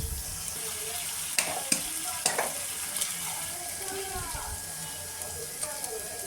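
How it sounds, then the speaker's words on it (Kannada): Eggs hit a hot pan and sizzle with a steady frying hiss. Several sharp clinks and scrapes of stirring sound close by. "ಈಗ ಮೊಟ್ಟೆ ಹಾಕೋಣ."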